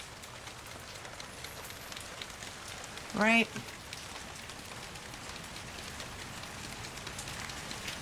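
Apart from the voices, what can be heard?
heavy rain falling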